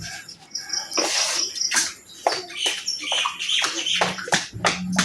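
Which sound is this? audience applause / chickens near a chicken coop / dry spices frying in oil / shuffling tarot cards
chickens near a chicken coop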